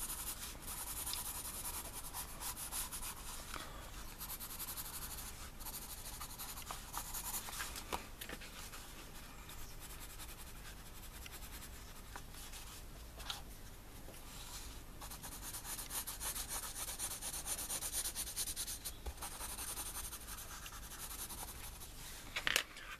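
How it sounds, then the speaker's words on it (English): A pencil colours in on paper with continuous soft scratchy strokes, close and quiet, steady back-and-forth rubbing throughout with a few slightly sharper marks. "if we colour in the direction of the wood grain, or supposed wood grain, then that gives us a better"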